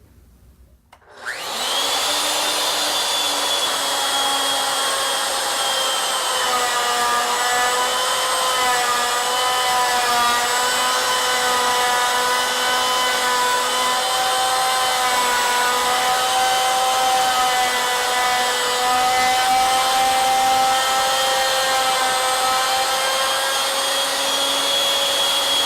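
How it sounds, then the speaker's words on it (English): A router cuts a barley twist spiral into wooden stock for a hollow spiral candlestick: a loud, steady, high-pitched motor whine starts after about a second and runs unbroken to the end, with no talking. "To cut the barley twist, I've positioned the router right at 0 over the center of the stock"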